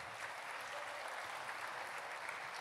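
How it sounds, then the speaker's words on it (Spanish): A church congregation at a Sunday service applauds for a brother, a steady dense wash of clapping sustained evenly, fairly soft and distant, with no talk over it. "Démosle un aplauso al hermano"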